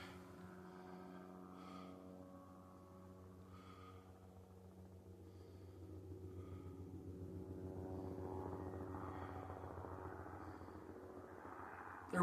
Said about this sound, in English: There was another helicopter.